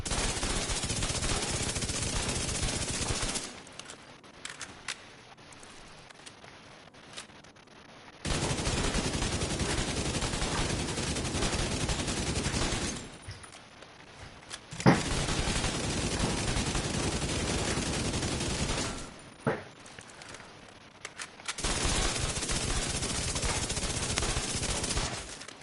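Sustained bursts of automatic rifle fire from an M-Line SCAR in The Division 2, loud rapid-fire volleys of several seconds each, split by short quieter pauses.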